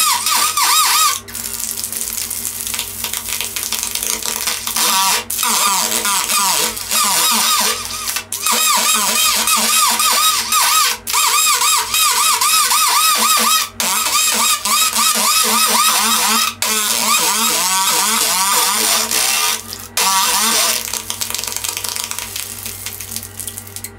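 A fiber laser cuts serrations into a knife blade with a continuous buzzing, crackling whine and rapid warbling sweeps, loud and close, broken by brief regular pauses between passes.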